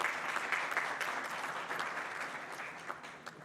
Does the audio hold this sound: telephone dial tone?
no